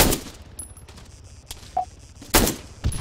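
Rifle fire at a helicopter gunner in the Arma 3 video game: a few sharp, separated gunshot cracks, the loudest near the end, over a quiet game backdrop.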